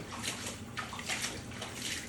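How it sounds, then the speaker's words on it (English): A photographic gum print moved and agitated by hand in a tray of warm water, giving soft, continuous sloshing and splashing close by, with small surges of water movement throughout and no talking. "It's warm water, and I agitate the back of the print too."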